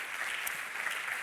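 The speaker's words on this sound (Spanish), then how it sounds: "recibamos, por favor, con un fuerte aplauso a Miguel Delibes de Castro y Eloi Revilla" An audience at a sustainability talk about the Doñana reserve claps steadily to welcome speakers onto the stage, a brief dense wash of many hands with no voices.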